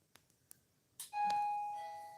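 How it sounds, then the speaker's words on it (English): A few faint clicks, then a doorbell chimes, its two-tone ding ringing out clearly and decaying in a quiet room. "Oh, there's the doorbell."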